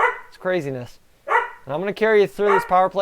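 A dog barks and yips a few times close by, short sharp bursts mixed in with someone talking.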